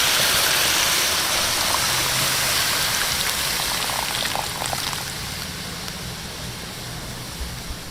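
Liquid pours into a pan while pork is cooked for a pork four seasons dish, a loud, even rushing hiss that fades slowly over several seconds with no talk.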